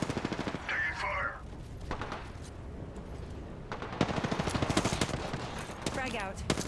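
Gunfire in Apex Legends: rapid automatic bursts crackle in stretches, loudest after the four-second mark, mixed with game effects and short spoken callouts.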